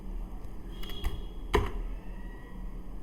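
A few light keystrokes on a computer keyboard, entering short text in Photoshop, come as sparse clicks with small pauses between them, quiet and close with no talking.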